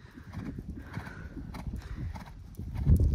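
A horse being ridden during a riding lesson, its hooves clip-clopping steadily at close range with a soft snort or whinny, while a rider's movements add light rustling.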